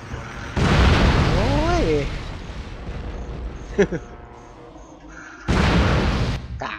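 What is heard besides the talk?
explosions in a video game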